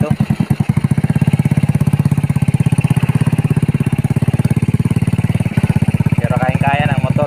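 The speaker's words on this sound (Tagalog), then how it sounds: "Pero kayang-kaya ng motor." Motorcycle, a Rusi, riding along an abandoned road overgrown with grass, its engine chugging loud and close with a steady rapid pulse throughout, rough clattering bumps, and a voice briefly heard near the end.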